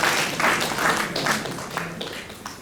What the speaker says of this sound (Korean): 박수로 축하해주시면 감사하겠습니다.